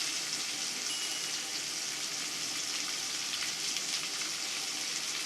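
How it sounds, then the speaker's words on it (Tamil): Chopped onion sautéing in a pan for egg sevai, a steady, faint hiss of sizzling oil that stays even throughout with no voices. "இதையும் சேர்த்து நல்லா வதக்கிக்கலாம்"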